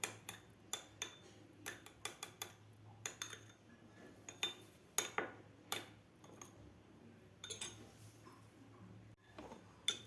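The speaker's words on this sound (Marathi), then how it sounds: "आता आपल्याला हे अंडे व्यवस्थित फेटून घ्यायचे आहेत." Eggs whisked in a bowl for an egg roll, a quiet series of light clinking taps at an uneven rhythm, close by and without talk.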